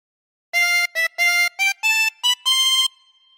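A harmonica plays a short melody of seven distinct notes from Pop Goes the Weasel, clear and close, with brief gaps between them and no other sound.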